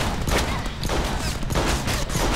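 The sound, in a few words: shotgun fire in Deadpool video game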